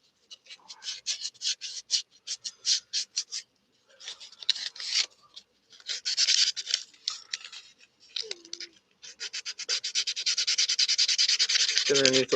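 A carved wooden fish decoy is sanded through different grits, giving rhythmic bursts of close, scratchy rubbing that pause and resume, then turn into a faster continuous scrubbing near the end.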